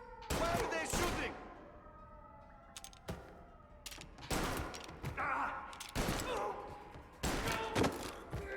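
Gunfire in Mafia: Definitive Edition: repeated loud, sharp shots and bursts spaced irregularly across the scene, close and echoing, with a voice briefly heard between them.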